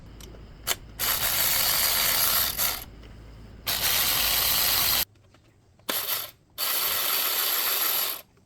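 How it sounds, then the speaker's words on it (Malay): Ratchet wrench undoing the three bolts on a Perodua Axia CVT oil cooler (oil warmer), heard as several loud bursts of rapid clicking separated by short pauses, close and with no talk. "Dia ada 3 nut sahaja, 3 bolt. Buka saja 3 bolt tu guys,"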